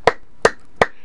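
Three sharp, evenly spaced hand claps, close and crisp, alone with no talk.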